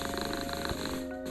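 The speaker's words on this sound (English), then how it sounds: "Happy cat purring." A contented cat purrs in a short playback recording, a low, continuous rhythmic rumble with a faint steady hum behind it and no voices.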